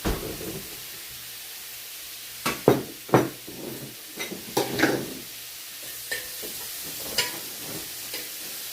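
Kimchi fried rice cooking in a pan, heard as a faint sizzle under scattered sharp scrapes and clacks of stirring, several irregular strokes standing out clearly against a quiet background.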